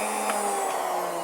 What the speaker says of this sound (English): just going to start the router, just make sure, listen to what's happening